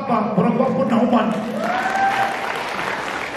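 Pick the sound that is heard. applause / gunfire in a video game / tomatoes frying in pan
applause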